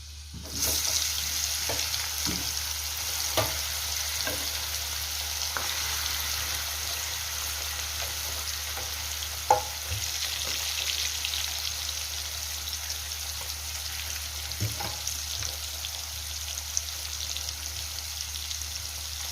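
Garlic frying in a pan until browned, while fish is being cooked in a Marathi home kitchen for pomfret fry and curry: a steady soft sizzle with occasional light clicks and scrapes of stirring, no talk.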